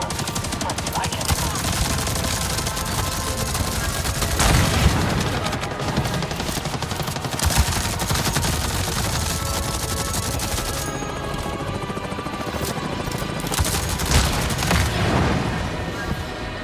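Sustained gunfire in Avatar Frontiers of Pandora rattles loudly throughout, with dense bursts of shots and booming impacts, and faint talking underneath.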